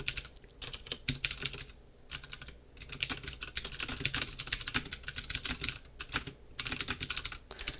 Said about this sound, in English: I'm about to type